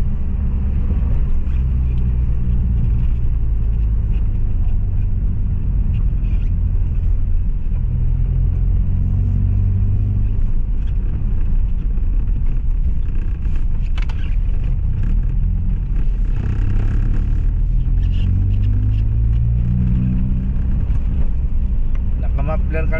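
A Toyota Vios engine with a heavy smoke problem idles steadily through its muffler, giving a continuous low rumble that stays loud and even throughout, with faint talk in the background.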